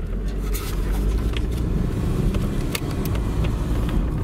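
Toyota MR2 Mk2 with an automatic gearbox pulls away, a steady loud engine and road rumble filling the whole stretch with no pauses.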